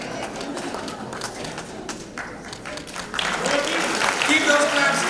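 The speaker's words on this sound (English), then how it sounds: "keep those claps going" Audience applause at a book launch unveiling a debut autobiography, a crowd clapping steadily that swells louder partway through, with voices and chatter mixed in.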